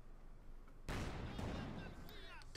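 A Teller mine detonates in the strategy game Company of Heroes 2, a sudden heavy blast that breaks in after a quiet moment and rumbles away over the following seconds amid battle din.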